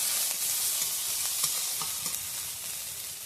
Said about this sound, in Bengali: পেঁয়াজ কুচি করে রেখেছি দিয়ে দেবো। একটু হালকা করে ভাজবো